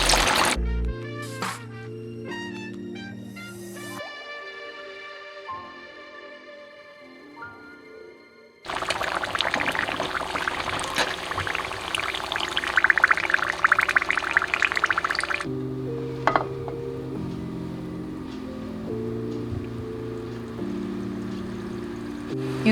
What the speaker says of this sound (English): Slow fry them. Deep fry them around 8 minutes.